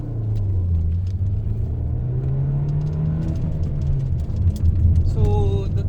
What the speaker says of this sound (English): rev the motor, and here we go